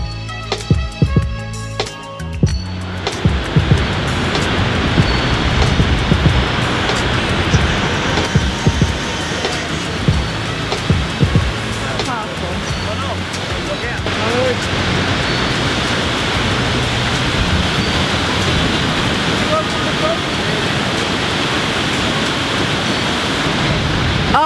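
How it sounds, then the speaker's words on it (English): A powerful, partly frozen waterfall in icy Iceland roars as a dense, loud, continuous rushing wash that holds steady after a short quieter start, with no voices heard. "See, there is the waterfall. It is super powerful."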